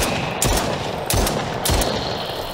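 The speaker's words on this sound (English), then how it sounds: "Might as well shoot him down." Gunfire in a creepy survival horror video game set in a sewer: three loud shots at roughly even intervals, each with a harsh burst and a rumbling tail over a dense, constant background.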